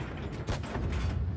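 Tank cannon fire in World of Tanks Blitz, Skoda T 56 battle: dense, continuous booming gunfire with a few heavier blasts over a steady rumbling background.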